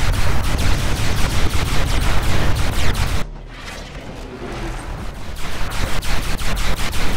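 Loud, rapid machine-gun fire and explosive bursts from units in a Command & Conquer Kane's Wrath battle, sharp repeated shots with a brief lull before the firing resumes.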